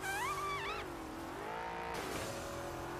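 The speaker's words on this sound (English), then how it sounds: "I think my car just farted." A car fart sound effect from the video game Carmageddon Reincarnation plays as a continuous buzzing drone with a warbling, pitch-bending tone at the start, steady and moderately loud over about three seconds.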